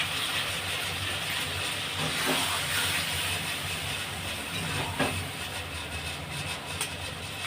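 Water poured into a hot pan of braising chicken kosa sets off a steady broadband steam hiss throughout, with a brief stronger sizzling burst near the middle and faint clatter.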